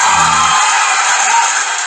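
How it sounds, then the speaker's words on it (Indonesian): Cheering crowd sound effect from TikTok Live's sound-effects panel, a loud, steady burst of massed voices and whoops running without a break, with a brief low voice under it at the very start. "kita coba kasih volume bersorak"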